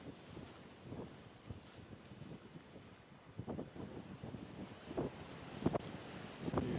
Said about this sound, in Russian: Ветер с моря дул.